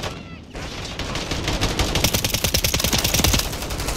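Rapid submachine gun fire in Call of Duty: Modern Warfare III, with a fast, steady stream of close, loud shots rattling in a continuous burst over busy combat noise.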